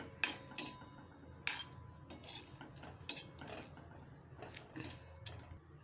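Metal utensils clink and scrape against a wok in several sharp, irregular taps while cinnamon dry-roasts, with quiet pauses between them.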